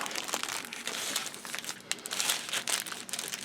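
Plastic bags from a Tamiya 1/72 A6M2b Zero model kit crinkle continuously and loudly up close, a dense rustling crackle of handled film that lasts for several seconds.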